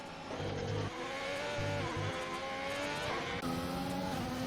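In a racing video game at the Canadian Grand Prix, a Ferrari race car rolls along slowly, its faint engine note repeatedly rising and stepping through gear changes.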